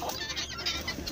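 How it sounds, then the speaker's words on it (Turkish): Chickens clucking as they are let out of the coop in the morning, a close, continuous flurry of overlapping clucks. "Daha sonrasında sabah susuz bir şekilde bekleyen tavuklarımızı kümesten çıkartıyoruz."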